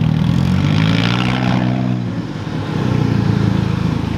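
A car engine revving hard close by, its tone climbing, then easing off briefly and picking up again at a loud steady drone.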